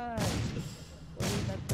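Bursts of automatic gunfire in the mobile battle royale game Rules of Survival, two loud broadband volleys separated by a quieter gap, with a third burst starting at the end.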